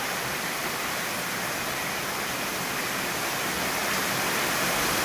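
Torrential rain with floodwater rising up a home's front steps makes a continuous broadband rush, like a waterfall close by. It stays even and unbroken for a few seconds, and nobody speaks.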